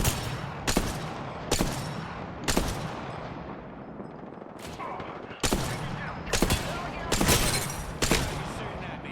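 Bursts of gunfire hit the player in Gundam Battle Operation 2, sharp loud volleys in irregular clusters with short gaps of quieter background between them.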